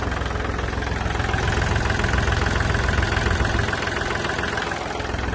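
A Kubota L3608 tractor diesel engine idles steadily up close, a continuous low, even rumble with a faint knocking texture and no speech over it.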